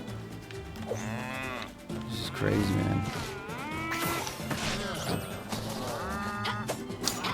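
Cattle lowing repeatedly in the Town of Zoz video game, long drawn-out moos rising and falling close and loud, with a short spoken remark partway through.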